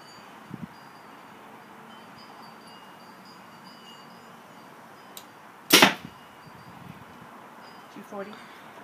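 An arrow is shot from a bow in a velocity test with new bowstrings, making one sharp, close snap of release amid quiet outdoor ambience, with a couple of fainter knocks before and after.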